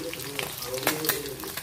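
An egg and onion omelette sizzles steadily in a hot pan, a continuous close frying hiss with a few brief clatters.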